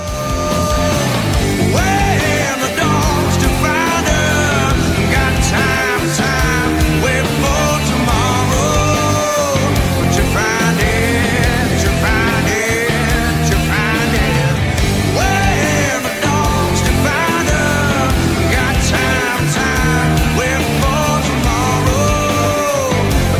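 Bridge section of a song played by a full alternative rock band with distorted guitars and drums, dense and loud without pause throughout.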